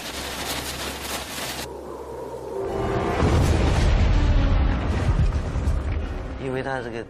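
A dynamite charge blasts underground and the ground caves in, a deep roaring boom of collapsing earth that swells partway through and then rumbles on loudly, with other sound before it.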